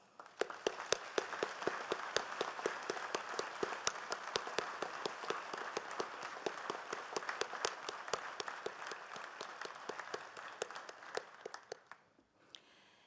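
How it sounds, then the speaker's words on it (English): Sustained audience applause for veterans' national leaders at the National Veterans Day observance, a broad even patter from a large crowd with distinct nearby claps, fading out near the end. "please join me in recognizing our veterans' national leadership with your applause"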